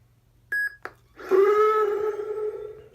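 A short electronic beep from a lightsaber hilt sounds, followed by a click and then a rising, humming tone that sustains and slowly fades.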